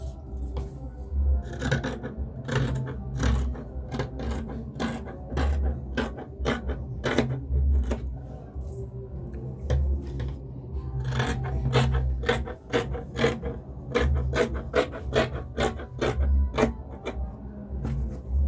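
Scissors cutting through ankara fabric, a rapid series of close, crisp snips and slicing rasps in bursts with brief pauses, over a low rumble of handling.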